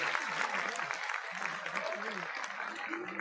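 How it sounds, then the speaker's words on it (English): An audience at a school district event applauds an associate principal, a broad steady wash of clapping lasting throughout, with voices mixed in underneath. "Let's give her a round of applause."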